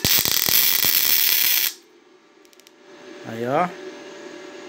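Welding fills the inside of a broken screw in a workshop, a loud close crackling sizzle lasting under two seconds before it cuts off, followed by a brief spoken word from a man.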